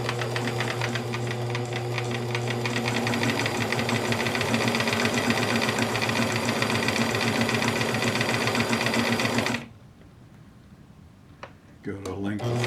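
Bernina Record 830 sewing machine running steadily at close range, a rapid even needle clatter with motor hum for about ten seconds, then stopping abruptly, leaving faint handling noises.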